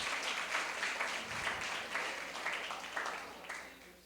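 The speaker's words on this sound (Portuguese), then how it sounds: "Vamos aplaudir o Senhor." A church congregation at a retreat claps together in an even, quick rhythm. The applause is faint and sounds distant in the room, with a brief voice briefly audible.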